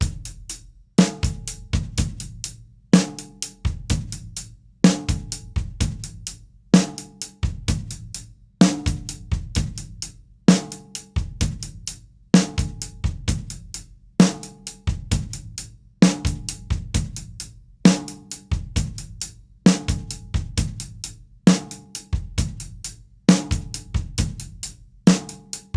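A drum kit plays a slow, repeating ostinato groove in steady cycles, with kick and snare hits and cymbal strokes looping evenly for the whole stretch, loud and close with no talking.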